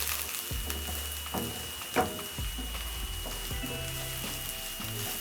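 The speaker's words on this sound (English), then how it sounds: "To this I'm going to add onions, then I'm going to stir, cook until soft." Onions sizzle in oil over medium heat in a pan, a soft, steady hiss with intermittent spatula scrapes and taps as they are stirred, fairly quiet and close.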